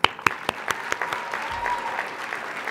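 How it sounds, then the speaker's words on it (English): Graduation audience at a December 2016 Columbia ceremony claps in a brief burst of applause, a few crisp individual claps at first merging into a short, dense patter that stays moderately loud. "I believe we all deserve a round of applause for completing this stage of our life"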